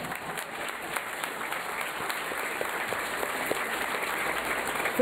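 Sustained audience applause at a Cleveland conversation event with Senator Sherrod Brown and Councilperson Liz Brown, steady even clapping from a sizeable crowd filling the whole stretch without a break.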